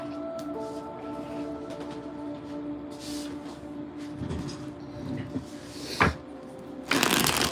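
Cards from an Everyday Witch Tarot deck are shuffled by hand in soft, irregular riffles and slaps close by, ending in a louder flurry of shuffling, with a faint steady hum in the background.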